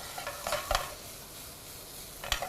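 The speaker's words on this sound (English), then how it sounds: "we can almost start to dry fry this" Spices with turmeric dry frying in a hot pan, a quiet sizzle under a few sharp scraping stir strokes, with a clustered pair of stirs early on and another near the end.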